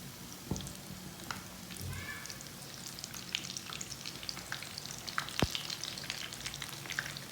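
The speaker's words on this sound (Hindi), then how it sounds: "ऑयल हमारा गर्म हो चुका है, अब टिक्कियों को ना फ्राई कर लेते हैं।" Potato tikki cakes frying in hot oil, a soft steady sizzle and crackle with occasional pops and a few utensil clinks, fairly quiet and close with no talking.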